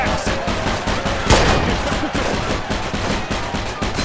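Dense gunfire from the Mafia 2 video game, a sustained fusillade of rapid shots with machine-gun bursts and one louder blast near the middle, crowding the whole stretch with no voices.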